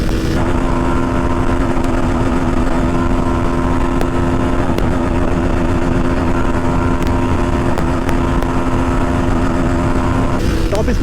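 A Pulsar NS 160 and an Apache 160 4V motorcycle in a drag race hold a loud, steady, high-revving engine drone at speed, close and unbroken for the whole stretch, with wind noise.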